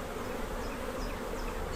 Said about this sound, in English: this is a healthy population of bees